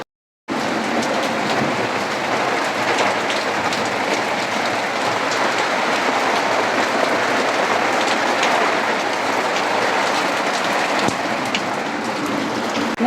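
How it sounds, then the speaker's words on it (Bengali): Heavy rainstorm with a torrential downpour, a dense, steady roar of rain that starts abruptly and holds at full, even loudness throughout, with no voices. "মুষলধারে বৃষ্টি হচ্ছে প্রচণ্ড পরিমাণে বিদ্যুৎ চমকাচ্ছে"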